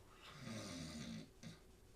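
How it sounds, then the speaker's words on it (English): A person snores softly: one long rasping snore followed by a shorter second one, close and quiet, with no talking. "I'm gonna snore."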